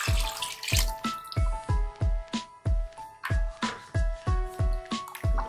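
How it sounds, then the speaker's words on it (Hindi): Water is added to kadhi, a yogurt and gram flour curry, in a cooking pot, producing a regular series of close sloshing, gurgling pulses roughly every half second. "अब मैं इसमें और पानी ऐड करूंगी।"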